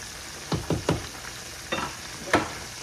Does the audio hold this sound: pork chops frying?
yes